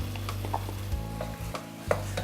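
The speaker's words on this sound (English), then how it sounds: "Give that really good mix" Paprika and tomato puree being stirred into a braised pork dish in a pot, giving a steady scraping, mixing sound over a low sizzle with a few soft clanks of the utensil.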